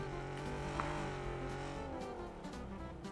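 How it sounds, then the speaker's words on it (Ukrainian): A car drives in the PUBG battle royale game, its engine a steady low drone with a gently shifting pitch, moderately loud and continuous with no talk over it. "Машина їде."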